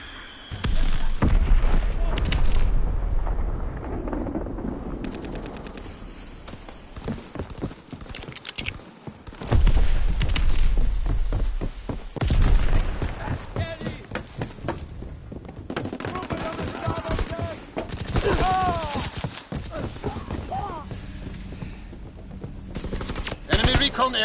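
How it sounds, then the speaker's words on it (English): Heavy explosions and bursts of gunfire from the World War II shooter Call of Duty WW2, loud and dense, with booming blasts near the start and again around the middle and a steady barrage beneath them. "Apex bomb mission underway."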